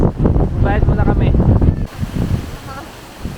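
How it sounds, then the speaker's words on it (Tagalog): Strong wind roars and buffets the microphone in a loud low rumble at the Chocolate Hills view deck in Bohol, with muffled voices partly audible beneath it before the gusts ease slightly. "So sobrang lakas ng hangin dito guys."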